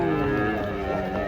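A giant cow of around 800 kilos gives a loud, drawn-out moo close by as it is unloaded from a truck, a single sustained low bellow.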